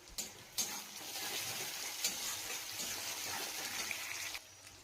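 Onions frying in oil with cumin and garlic, a steady close sizzle running through with a few stirring scrapes and clinks against the pan.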